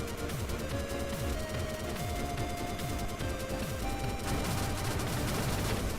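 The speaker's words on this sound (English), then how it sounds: "the flamethrower up close still does high damage" A flamethrower fires steadily in Blaster Master Zero, a loud, dense roar of game weapon fire that runs unbroken for the whole stretch, with repeated sweeping bursts layered over a busy soundtrack.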